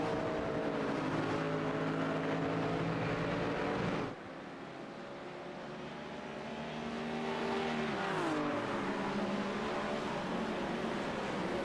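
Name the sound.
BMW race car driving into a corner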